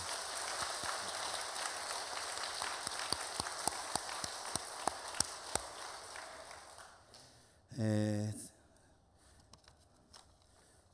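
A congregation at a Korean Sunday worship service claps in thanks. The applause is faint and distant, with a few sharper claps, then dies away and is followed by a short sustained tone.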